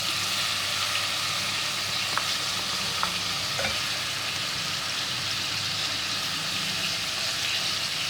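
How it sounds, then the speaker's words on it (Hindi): Constant crackling sizzle of chicken and ginger-garlic paste frying in oil, a couple of faint scrapes from stirring, close and uninterrupted, no voices. "इसको भी भून लेंगे अच्छी तरीके से।"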